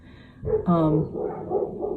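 Dogs barking indoors, a brief yelping burst of a few barks, close and fairly loud.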